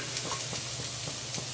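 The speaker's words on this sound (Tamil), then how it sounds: "ஸ்லோவில் வச்சுட்டு இதை செவக்க வறுக்கணும், கைவிடாமல் செவக்க வறுக்கணும்" Grated coconut roasts slowly in a kadai over low heat, a soft steady sizzle with faint rhythmic stirring scrapes, close and quiet.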